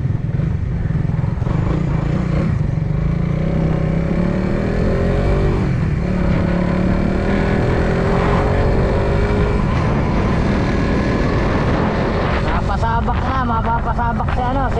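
A new motorcycle cruising along a highway, its engine droning loudly and continuously with rushing wind, pitch shifting as it speeds up and eases off, a voice briefly heard over it.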